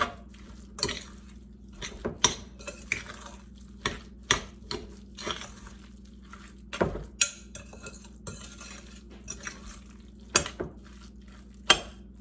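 BBQ muffin filling being mixed in a bowl, a spoon knocking and scraping against the sides in sharp, irregular clinks over a low steady hum, close by with no talk.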